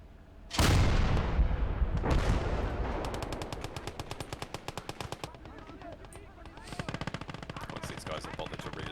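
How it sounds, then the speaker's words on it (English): An artillery bombardment in the game Call to Arms: Gates of Hell opens with two heavy booming blasts, followed by rapid rattling bursts of gunfire and further impacts, loud and continuous. "let's carry a bit of a preliminary bombardment"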